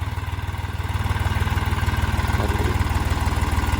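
A tractor engine idles at about 700 RPM on a farm field, giving a loud, steady, closely miked low throbbing with an even rapid pulse throughout and no speech.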